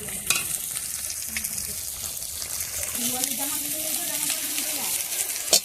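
Green chillies fry in a pan with a steady close sizzle and occasional stirring scrapes, and a voice speaks over the cooking.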